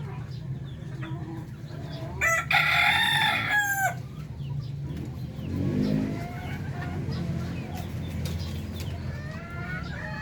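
Darag native chickens in Zaragoza, Nueva Ecija, Philippines: a rooster crows loudly nearby while hens cluck, and a second, softer crow follows, with a passing vehicle and a faint voice in the background.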